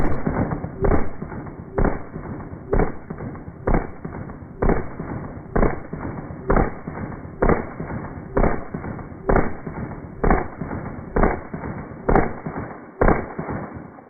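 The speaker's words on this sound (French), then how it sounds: "je vais faire 15 autres tirs avec le PPS" A PPS-43 submachine gun fired at a ballistic cushion, about fifteen loud single shots spaced roughly a second apart, each a sharp boom with a short decay, with no talk between them.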